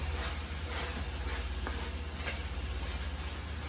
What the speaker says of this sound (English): Just gonna give it a final stir.